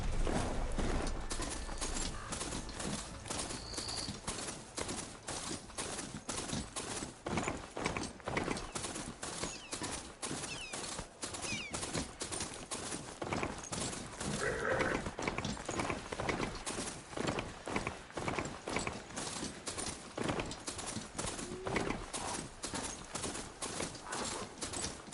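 A riding mount's hoofbeats in the video game Horizon Forbidden West, a steady, even clip-clop that carries on the whole time, close and prominent, with faint ambient game sounds underneath.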